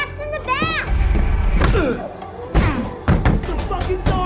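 A loud door slam with a heavy thud, among excited shouting and children's voices, followed by more bangs and commotion.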